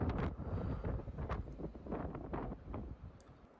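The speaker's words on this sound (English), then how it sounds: "The snow is falling and the wind is blowing." Wind blowing through falling snow in an Icelandic winter at ten below zero, a steady rough rushing with gusty swells that buffet the microphone and ease off toward the end.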